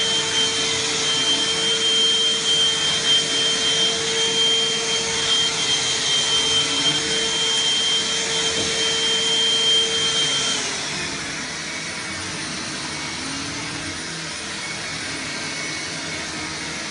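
A Morphy Richards Supervac Deluxe Pro 3-in-1 cordless vacuum cleaner runs with a loud, steady whine on max, then drops noticeably quieter and lighter as it switches to min mode and keeps running.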